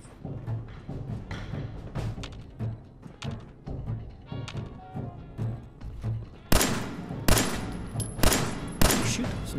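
Fallout 4 gunfire rings out as scattered shots, mostly moderate and slightly distant, then a louder, sharper volley near the end.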